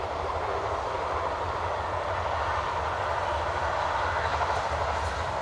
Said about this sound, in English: which is the train over there